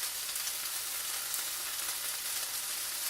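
Burrito filling frying in oil in a pan, a steady close sizzle with constant crackle and no pauses.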